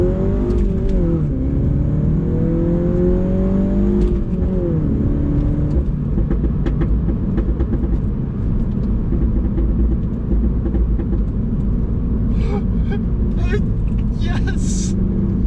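A Mini fitted with a loud JCW Pro Tuning exhaust revs hard, its engine note climbing and dipping through several rising sweeps before settling into a steady, throaty drone, loud and close, with brief voices and clatter toward the end.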